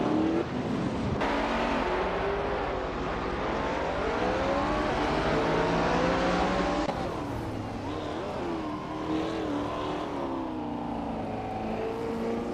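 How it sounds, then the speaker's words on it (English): Race cars, including a 1965 Lotus 40 prototype, lapping the Magione circuit; loud continuous engine roar with rising and falling revs as several cars pass close by, steady throughout with no talk. "the cars are flying around Magione"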